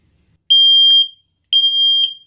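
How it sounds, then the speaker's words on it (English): Two loud, piercing smoke alarm test beeps, each about half a second long, sounding a second apart in an otherwise quiet room. "You can test it by simply pressing this little button here, holding it in for a few seconds"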